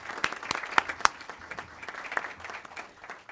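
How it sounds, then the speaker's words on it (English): Scattered applause at a city council meeting: sparse, uneven clapping from a modest number of people in a chamber, with a few sharper individual claps standing out, moderately quiet and steady for a few seconds. "Let's give her another round of applause."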